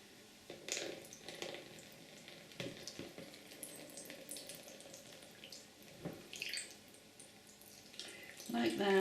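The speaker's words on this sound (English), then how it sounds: "Pouring some coffee out." Coffee is poured gently out to dye paper, a soft liquid trickle and splash in short bursts at close range, fairly faint, with a voice speaking briefly.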